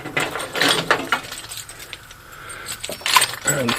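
Keys jangle and clink in a few short metallic bursts, close by, with quiet handling noise between them, before cold starting an old diesel tractor.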